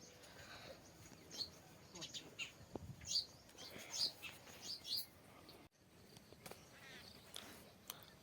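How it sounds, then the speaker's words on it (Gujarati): Sparrows come to eat scattered grain, sending out scattered bright chirps over several seconds, faint against a quiet outdoor background with other low sounds. "ચકલા દાણા ખાવા આવી ગયા છે."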